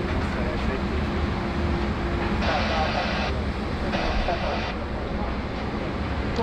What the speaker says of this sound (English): heavy takeoff roll of the Qantas Flight 7 all the way to Texas